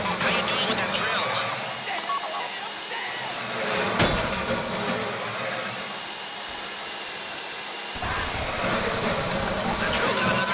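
The safe-cracking drill from GTA V Online's Fleeca Job heist keeps up a sustained, high mechanical whine that shifts in pitch now and then, with a grinding rumble below and talking layered on top.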